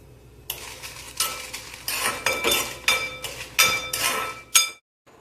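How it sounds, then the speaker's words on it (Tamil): Dried red chillies tossed and roasted in a metal pan, a run of loud rattling, clinking bursts at an uneven rhythm, close by, ending abruptly. "நான் 4 காஞ்ச மிளகா போட்டுக்கேன்"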